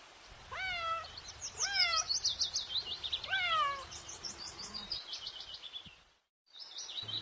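Several high, drawn-out cat meows in quick succession, clear and close, with bird chirps twittering alongside and a brief silence near the end.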